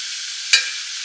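Frozen corn cooks in a pan with a steady, bright sizzling hiss. A single sharp click comes partway through this brief moment.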